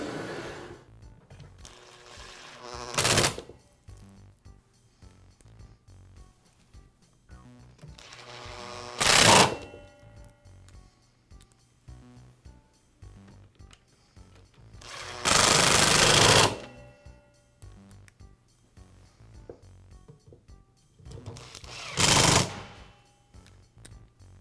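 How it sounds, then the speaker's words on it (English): Screws are driven in to secure the handle housing of a Makita miter saw during an armature repair. Four short, loud whirring bursts are separated by several seconds of quieter handling noise. "Snap it into place and I'll secure it with the screws."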